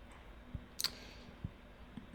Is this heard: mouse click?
yes